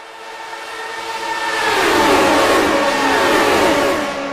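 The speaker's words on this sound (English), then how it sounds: "Turn up the engine noise of these Lotus 79s." Vintage Lotus 79 Formula 1 cars on bias-ply tires at Michigan in a racing sim roar past as a pack, the high engine howl building loud and dense, then holding steady, with no talking.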